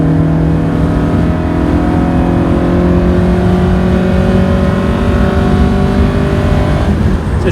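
A 1971 Alfa Romeo GTV engine drones steadily with rising harmonic tones as it accelerates, loud and close, with road and wind noise underneath.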